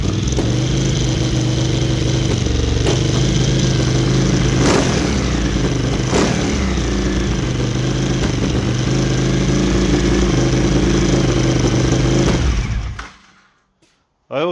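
A Suzuki TL1000R motorcycle engine runs at a steady fast idle, a loud, constant mechanical drone with no talk, until it cuts out near the end and falls silent.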